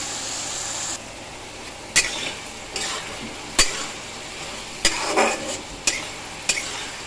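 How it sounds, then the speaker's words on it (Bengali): Potatoes and beans, salted and cooked with onion, frying in a pan: a steady sizzling hiss broken by several sharp scrapes and knocks of a stirring spoon, close and fairly loud. "এবারে একটুখানি লবণ দিয়ে এটাকে ভেজে ভেজে নিচ্ছি"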